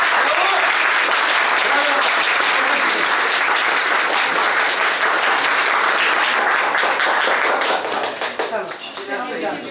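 Wedding guests applauding after the ceremony, loud continuous clapping from a crowd that thins into scattered individual claps near the end, with voices audible underneath.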